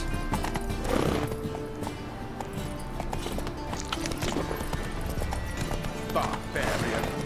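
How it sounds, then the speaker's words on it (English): Hooves clip-clop at speed as a horse gallops in The Witcher 3: Wild Hunt, rhythmic and close, with game voices speaking over the hoofbeats. "Whoa there, Roach."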